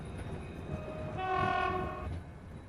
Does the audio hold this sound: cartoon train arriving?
yes